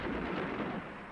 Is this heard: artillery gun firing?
yes